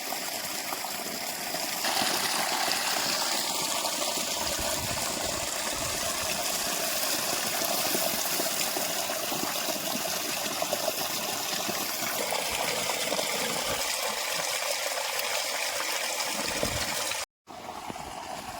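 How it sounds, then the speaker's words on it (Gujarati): Mixed lentils (chana, masoor, moong, toor and urad) are washed under running water. A steady gush of flowing water carries on throughout over a faint mechanical hum. "હવે આપણે થોડીક દાળને ધોઈ નાખીએ."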